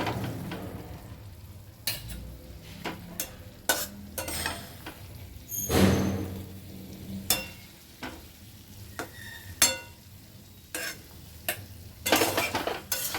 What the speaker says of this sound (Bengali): নেড়ে চেড়ে ভালো করে মিশিয়ে নেব